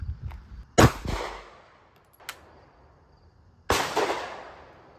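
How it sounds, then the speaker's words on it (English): A 9mm Glock 43X pistol fires outdoors: two loud, sharp gunshots about three seconds apart, each trailing into a short echo, with a faint click between them and no voices. "you want to just take some shots with our 9s?"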